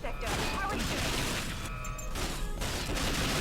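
Rapid P2K pistol fire in the James Bond 007: Nightfire video game, a dense stream of shots and impacts mixed with game effects, with a voice talking throughout.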